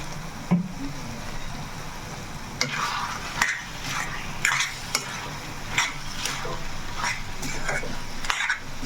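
Mutton curry with turmeric is stirred in a sizzling pan, with a spoon scraping in regular strokes about once a second over a constant frying hiss, heard close up with no talking.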